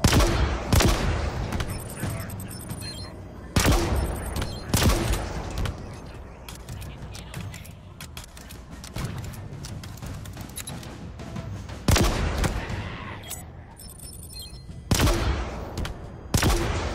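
Rapid bursts of gunfire fill a Halo Infinite campaign firefight on Xbox Series X, with loud repeated volleys and machine-gun rattles broken by short pauses, mixed with game effects.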